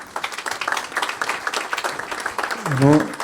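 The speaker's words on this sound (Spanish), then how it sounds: "Un aplauso." Audience at a Rotary Club meeting in Buenos Aires clapping in a dense, rapid patter of many hands, with a voice rising over the end of the applause.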